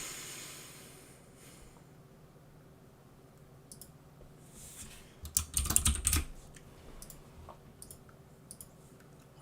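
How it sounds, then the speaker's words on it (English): Clicky typing on a computer keyboard: faint scattered keystrokes at first, then a loud, dense burst of rapid keypresses before a few trailing taps. "why do I keep typing the gosh darn apostrophe?"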